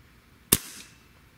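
The trigger of a Beeman Chief II PCP air rifle breaks on a Lyman trigger gauge, giving a single sharp, loud snap with a brief ringing decay in an otherwise quiet room.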